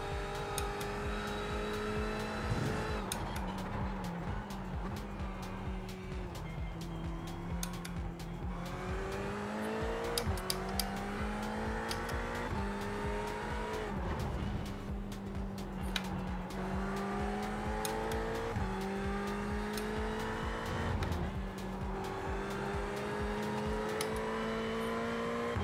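Race car engines in the iRacing simulator rev up and down continuously, with shifting engine tones and occasional tire squeal, loud and steady with no talking.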